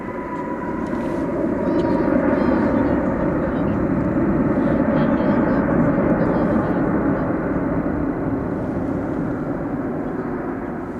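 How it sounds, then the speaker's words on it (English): An American Airlines Airbus A321 jet airliner roars steadily at DFW Airport at night, a loud broad rumble that holds for the full stretch with no talk over it. "Here is American flight 2235. It's going to Denver, Colorado. It's an Airbus A321."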